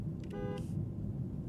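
Mercedes-AMG S63 E sedan horn giving a short, polite beep: a brief harmonic tone of under half a second, moderately loud over steady road and cabin rumble.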